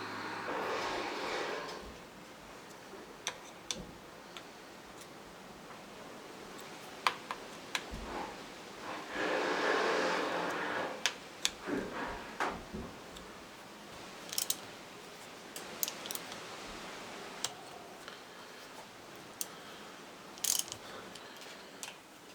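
Head bolts are tightened on a Honda farm bike engine during a restoration, giving repeated ratchet clicks and metallic ticks in short bursts with pauses between, close and moderately quiet.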